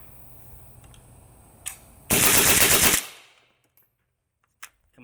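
An AK47 fitted with a suppressor and loaded with subsonic ammunition fires a short, dense full-auto burst of just under a second, loud and close, after a single earlier shot, followed by a decaying echo and a couple of faint clicks.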